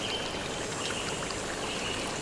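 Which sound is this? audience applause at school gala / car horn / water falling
water falling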